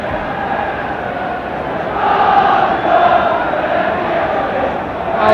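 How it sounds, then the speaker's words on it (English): A football crowd at an Everton versus Manchester City match around Christmas keeps up a steady, distant roar of cheering that swells a little partway through. "Just listen to the crowd now, giving them a bit of Christmas cheer, and they are cheering back."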